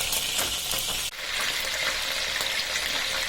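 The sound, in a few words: tilapia fish frying in oil in a wok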